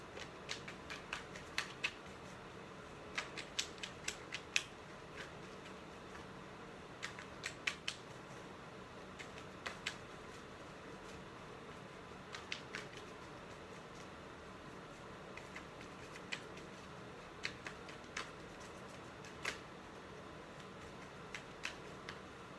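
Soft, rapid riffling clicks of tarot cards being shuffled, in repeated short bursts over a quiet background, close by.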